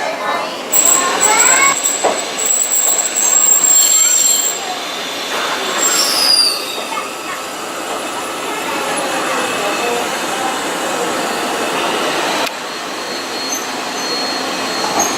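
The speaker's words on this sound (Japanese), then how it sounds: "この電車は市原行きです。" Eizan Railway train in Kyoto running on rails toward Ichihara during typhoon disruption, wheels squealing sharply on curves over a steady rolling rumble, loud and close from inside the car, with an announcement voice faintly under it.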